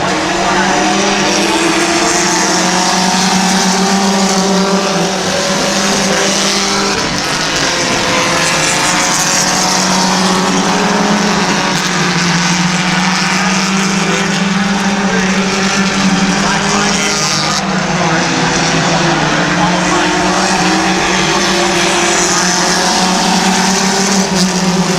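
Race cars roar through a heat race at Midvale Speedway, their engines a loud, sustained drone that rises and falls as they run off the turn and down the backstretch, near and unbroken throughout.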